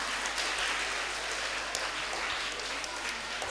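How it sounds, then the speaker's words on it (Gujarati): Applause from the audience at a school quiz competition for class 4 and 5 children, a steady wash of clapping held at an even level throughout, with no talk over it. "તો એમના માટે પણ તાળીઓ થઈ જાય"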